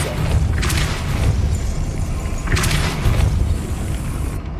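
Depulso spell cast in the video game Hogwarts Legacy, heard as two deep booming whooshes roughly two seconds apart over a rumbling game background.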